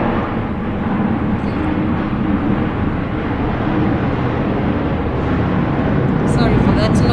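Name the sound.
airplane flying overhead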